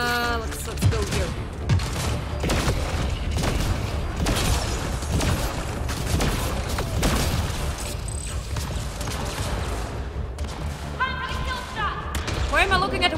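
In the Mass Effect: Andromeda video game, the Hydra explodes amid dense, continuous rolling booms, crashes and gunfire-like bursts, and a voice talks over the game sound.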